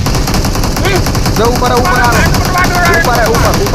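Rapid automatic gunfire from the mobile battle royale game BGMI rattles in loud continuous bursts while a player talks over it.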